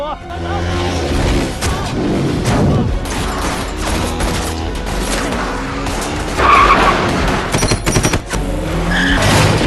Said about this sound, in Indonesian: Anak buah Ngo yang lain datang dan terjadi tembak-menembak.